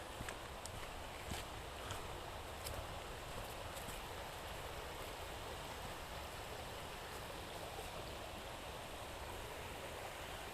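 Steady rushing of stream water at a muddy springtime trail crossing in Vermont, a constant broadband wash with a few faint knocks and splashes, heard alone without any talk.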